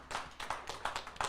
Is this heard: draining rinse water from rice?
no